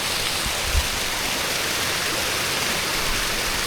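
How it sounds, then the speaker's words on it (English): A waterfall gives a constant, broadband rushing hiss, steady and fairly close, with no voices over it. "listen to the waterfall."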